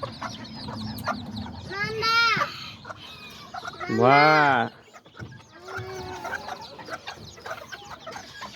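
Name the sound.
small chickens and roosters clucking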